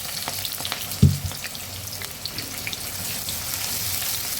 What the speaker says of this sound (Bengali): একটু ফোড়নে এই যে গোটা গরম মশলা সেটাকে দিলাম, দিয়ে এটা বেশ গরম হয়ে গেলে পেঁয়াজগুলো আমি ভেজে নেব।